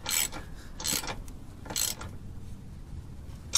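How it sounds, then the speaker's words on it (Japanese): A ratchet tightening the stabilizer link nut on a Subaru WRX STI VAB: three short bursts of fast clicking ratcheting, close and crisp, separated by pauses, with a faint click at the end. "スタビリンクのこのナットも締め忘れないように"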